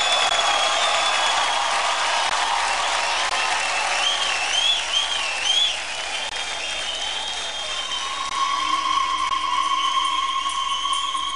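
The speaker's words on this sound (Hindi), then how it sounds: "जोरदार तालियों से स्वागत कीजिए सलमान खान का" An audience at a stage show greets Salman Khan's entrance with sustained, dense applause, steady and loud throughout, with music tones and cheers rising over the clapping.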